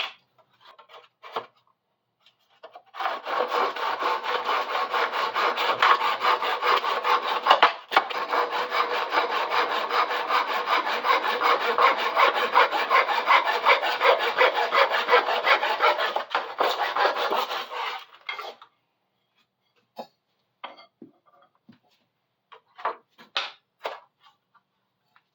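Wood being sawn to cut out a striped bass fishing plug, with a steady, rapid rasping stroke close by for about fifteen seconds, then scattered small knocks and handling noises.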